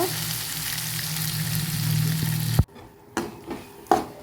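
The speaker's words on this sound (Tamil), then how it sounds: "நம்ம நறுக்கி வச்ச தக்காளியும் சேர்த்து வதக்கி விட்டுக்கணும்" Chopped tomatoes sizzle steadily in a hot frying pan, then the sizzle cuts off and a few scraping stirs of a utensil against the pan follow.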